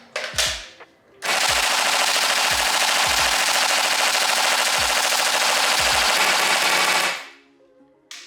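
An ICS L86A2 LSW airsoft replica fires full auto in one long, unbroken burst of about six seconds. The rapid mechanical rattle is close and loud, with a few low thumps before and during the burst.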